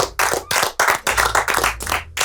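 A small group clapping together in quick bursts, the claps close and loud with short gaps between rounds, during a real-life bomb-defusing game.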